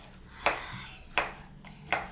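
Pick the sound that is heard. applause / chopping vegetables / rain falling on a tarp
chopping vegetables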